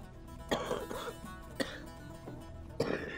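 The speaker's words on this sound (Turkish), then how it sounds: "Öksürme öksürme dur ben sana bir su getireyim dur." An elderly grandmother in a drama film coughs three times, close and harsh, in separate bursts spaced about a second apart, with quiet room tone between them.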